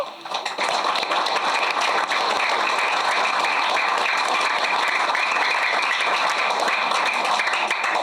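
An audience applauds at a government ceremony in Aruba honoring U6 and U8 youth teams, a dense, steady wash of clapping that holds loud and even for about eight seconds with no talking.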